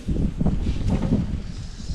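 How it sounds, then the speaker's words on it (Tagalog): Strong northeast monsoon (amihan) wind buffets and roars against the microphone in uneven bursts, loud and close, with faint rustling underneath. "Mahangin mga kamising, lakas ng amihan"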